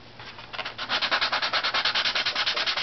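Sandpaper worked by hand across a violin top plate in quick, even back-and-forth strokes, a close, rhythmic scratchy rasp that starts after a brief pause and keeps a steady pace with no talking.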